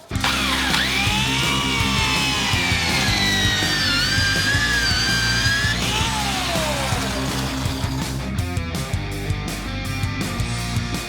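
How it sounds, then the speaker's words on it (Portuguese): A power drill fitted with a hole saw cuts a hole to take a 50 mm flange for an aquaponics siphon. It whines loudly and close with sliding, rising and falling tones, then ends in rapid rattling bursts. "a gente já consegue fazer um furo aqui com a serra-copo"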